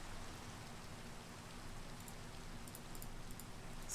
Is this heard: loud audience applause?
no